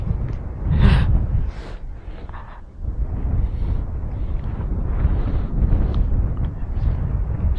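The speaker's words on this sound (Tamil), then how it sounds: "காற்று அடிக்குதுங்க அப்படியே சூப்பராக" Strong wind buffets the microphone during a solo Kawasaki motorcycle ride through hill country, a steady close roar of rushing air with low rumbling gusts and no speech.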